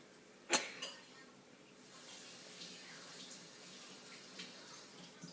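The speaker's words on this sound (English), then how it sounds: "So I'm going to go ahead and rinse these" Tap water runs into a sink as vegetables are rinsed under it, a sharp knock at the start followed by soft, steady splashing close by, with no talking.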